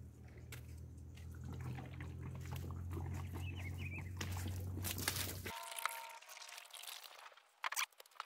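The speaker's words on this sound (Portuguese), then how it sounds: "E agora eu vou jogar uma aguinha só para tirar a poeira." Water is poured over a dusty car after a long dirt-road drive, a steady close rush and splash that stops abruptly, followed by a few scattered knocks and quiet.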